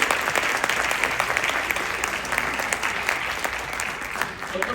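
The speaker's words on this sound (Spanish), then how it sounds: "Un aplauso para el doctor Kenji" A lecture audience in Mexico City gives a doctor a full round of applause, dense steady clapping from a crowd, fairly loud and unbroken throughout.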